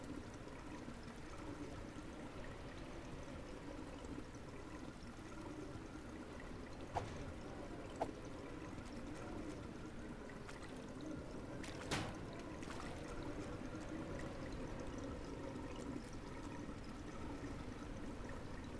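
Water from a hose runs steadily across a surface toward two drains. It makes a soft, continuous wash and trickle at low level, with a few brief clicks and splashes.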